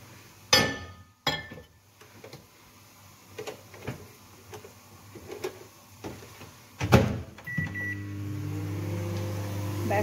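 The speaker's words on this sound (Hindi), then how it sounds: "चाय जो है वो माइक्रोवेव में एक दफ़ा फिर दोबारा हल्की से गर्म कर लेते हैं" A microwave oven reheating a cup of tea: sharp clinks and door clicks come first, then the oven starts a steady low electric hum.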